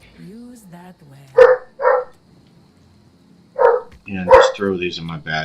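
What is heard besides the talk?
dogs barking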